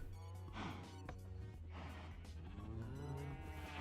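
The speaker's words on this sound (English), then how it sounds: "all of these cows have lost living privileges" Cows lowing in a farming and colony-building video game, several overlapping drawn-out moos over a steady hum, at moderate volume, with no talking.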